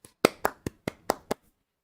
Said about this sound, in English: That's a clap for you, my friend.